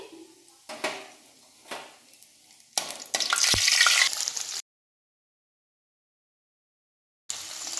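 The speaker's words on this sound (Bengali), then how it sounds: "ক্যাপসিকামগুলো হালকা করে ভেজে নিলাম" Capsicum and whole spices frying in hot oil for a chicken curry, a broadband sizzle with stirring scrapes in short bursts, rising to a loud steady hiss before cutting out and briefly returning.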